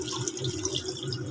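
Water running from a tap or poured into a pan of pork steak simmering with vinegar, soy sauce, garlic, onion and pepper, a steady close splashing flow with no talk.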